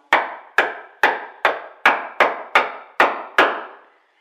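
Chisel struck repeatedly with a mallet while seated in a knife line, paring waste from a wooden furniture carcass: nine crisp, evenly spaced wooden knocks, close and loud, each with a short decaying ring.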